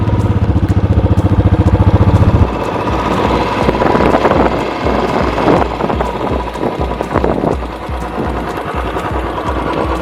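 A Royal Enfield Classic BS6 motorcycle in gun metal grey thumps along on a test ride, its steady single-cylinder beat loud and close, rising after a brief idle-like opening and holding a regular pulse throughout.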